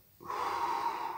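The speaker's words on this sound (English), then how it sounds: "This infinity breathing, you hold," A held breath released in an infinity breathing exercise: brief quiet, then a sustained, fairly loud breathy exhale lasting about a second.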